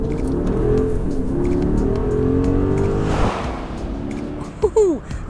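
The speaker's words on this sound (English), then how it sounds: "This is the 580. That means it has a 4-liter twin turbocharged V8" Twin-turbo 4-liter V8 of a Mercedes-Benz GLS 580 SUV accelerating hard, a loud, rising engine roar for about three seconds, then easing off before a short whoop from a voice near the end.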